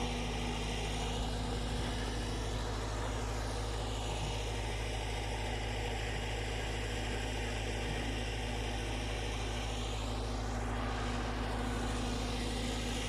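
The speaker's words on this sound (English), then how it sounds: "The noise you can hear in the background is the generators," Steady low engine drone of power generators at a remote island site, a constant hum with strong low bands running unbroken throughout, with no talk over it.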